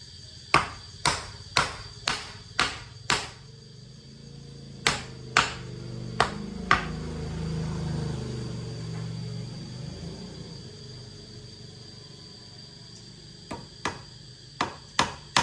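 Hammer blows while fitting a door frame for a bathroom, sharp ringing strikes in quick regular bursts at the start, middle and end, with a low rumbling lull between the groups.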